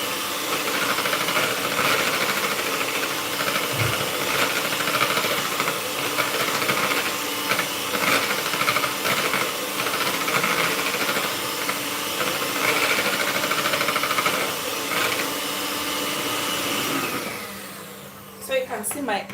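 A handheld electric mixer whirs steadily while beating an egg until frothy, a continuous loud buzzing drone that cuts off near the end, with a voice talking at times.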